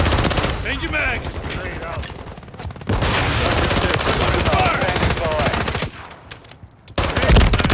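Rapid automatic gunfire from the Call of Duty video game, dense bursts of loud rattling shots running nearly continuously with brief lulls, punctuated by heavier blasts.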